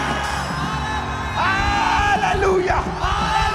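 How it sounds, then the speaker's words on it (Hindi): A church congregation shouts and cheers together in a loud, sustained crowd roar, with overlapping yells and whoops swelling midway. "आज चिल्लाने का दिन है, शाउट करने का दिन है।"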